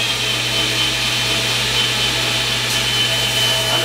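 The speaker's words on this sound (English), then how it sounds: "I can butt the plunge cut right into the edge of the belt, and it cleans that up" Belt grinder in a forge workshop dressing a plunge cut on a blade, a steady abrasive whir of belt against steel running unbroken at close range.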